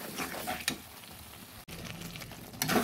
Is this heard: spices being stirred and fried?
yes